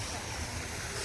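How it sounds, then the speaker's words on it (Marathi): A waterfall at an outdoor wedding venue gives off a steady, even rush of water, a dense broadband roar with no breaks and no one speaking. "बघू शकतो इथे वॉटरफॉल आहे"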